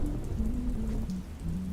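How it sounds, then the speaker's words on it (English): Rain falls steadily on cobblestones outside a café on a stormy night, making a dense, even patter close by. A low rumble and a faint musical tone hum underneath. "Outside the tall windows, the rain danced on the cobblestones."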